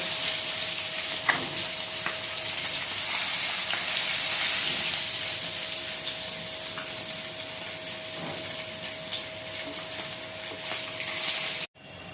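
Steady hissing sizzle of rohu fish frying in hot oil, continuous and close, with a faint high tone and occasional light clinks.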